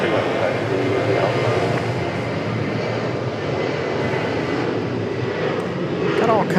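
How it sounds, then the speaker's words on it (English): Several jet airliners depart one after another from runway 23 left at Raleigh-Durham International, making a loud, steady broadband roar that holds for the whole stretch, with a person talking over it. "Got all kinds of departures happening over on 23 left behind us. That's what you guys are hearing right now."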